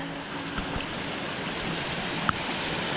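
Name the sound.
small creek flowing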